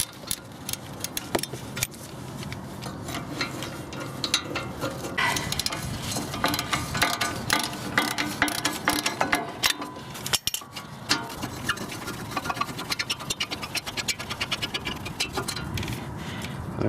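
Steady metallic clicking and clanking from a ratchet working the front brake caliper bolts on a 2006 VW Jetta MK5, close and continuous with dense rattling throughout, no talk.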